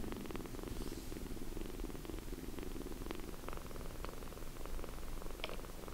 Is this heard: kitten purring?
yes